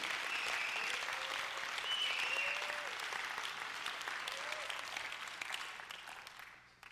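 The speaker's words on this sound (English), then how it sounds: "Clap your hands right there." An audience at a leadership talk claps steadily for several seconds, a dense wash of applause with a brief voice over it, fading toward the end.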